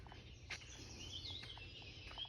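Faint birdsong drifts through Long Point provincial park biosphere in Ontario, a few soft distant chirps and whistles over a steady low outdoor hum, no voices.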